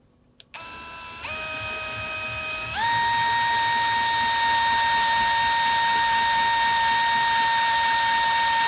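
A 7.5mm drill bores out a BMW 535d M57 fuel injector hole, a loud steady whine that steps up in pitch twice and then holds, with faint clicks just before it spins up.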